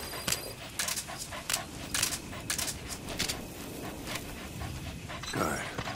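A dog in the video game Metal Gear Solid V pants in quick, rapid breaths, close and moderately loud over a soft game ambience, with a few brief clicks.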